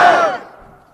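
A crowd at a political rally shouts a slogan back in unison, a loud burst of massed voices that fades quickly into a faint tail.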